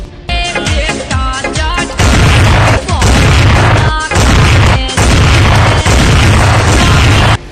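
A series of loud, sharp gunshots rings out as a man openly fires a weapon in Uttar Pradesh, about six bangs spaced roughly a second apart, with faint voices before the first shot.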